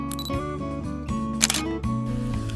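A single quick shutter release from a Nikon ZR camera taking a photo, a short sharp click set against a steady tonal background hum.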